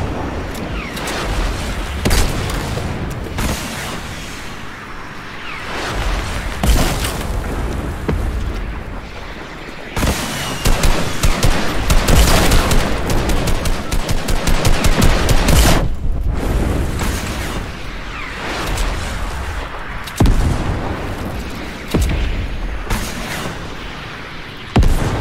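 Dense Fortnite combat with rapid gunfire bursts and heavy rocket explosions, near and loud, sustained across the stretch with brief lulls.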